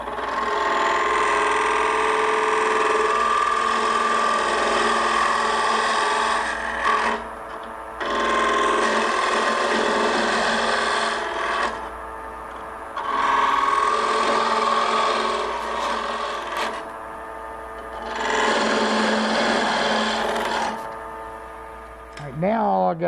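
A gouge cuts into spinning wood on a lathe while turning furniture parts, a loud rasping drone in long passes broken by short pauses, with someone talking over it.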